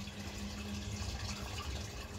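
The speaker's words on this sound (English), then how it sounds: "I'm literally going to throw a bucket of water down this drain" Water from a bucket thrown down a blocked sewage drain gushes and splashes in a steady, fairly quiet rush that carries on evenly throughout, with no talking.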